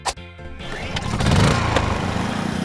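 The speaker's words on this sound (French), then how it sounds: "Mais d'abord, on doit allumer le groupe électrogène. Il sert à alimenter le congélateur." A generator powering an ice cream freezer is started: a sharp pull-start burst, then the small engine catches and settles into a loud, steady close-up putter with rhythmic pulsing.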